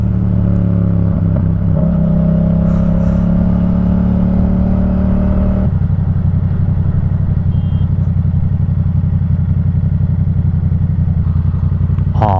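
A loud motorcycle engine revs up hard close by, a rising, strained roar that drops to a rough, rumbling idle and holds steady.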